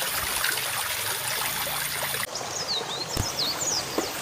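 River water flows and trickles in a continuous close wash, with a brief splash or knock near the end and bird-like chirps over it in the second half.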